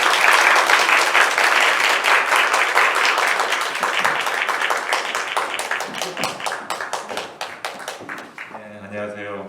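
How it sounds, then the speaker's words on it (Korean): Sustained applause from a school lecture audience welcoming a guest teacher to the stage, dense clapping that thins into scattered individual claps before a voice begins at the very end. "박수 한번 드리겠습니다."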